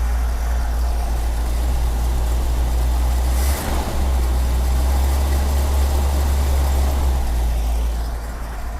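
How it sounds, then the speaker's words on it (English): A 1954 Chevy 5-window pickup truck's rebuilt engine, started after sitting outside three years, idles loudly and steadily with a deep, even rumble, close by and uninterrupted. "the engine still starts after all these years"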